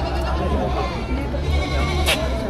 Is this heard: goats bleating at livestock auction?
yes